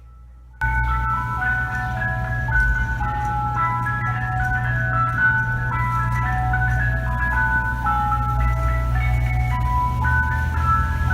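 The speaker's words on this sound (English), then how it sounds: "It's the ice cream truck." Ice cream truck chiming its looping music-box melody loud and near, over a low rumbling engine drone that holds steady throughout, starting abruptly after a brief quiet moment.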